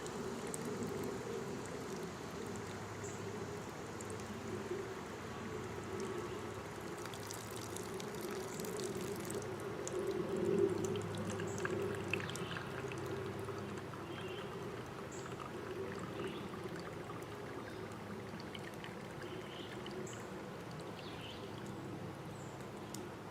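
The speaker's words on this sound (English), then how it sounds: "Usually takes about a full 2 to 3 liters worth of water to go through it before it really starts filtering well." Water pouring and trickling through a homemade survival water filter, a steady soft wash of flow that swells briefly midway, with faint background noise and no talking.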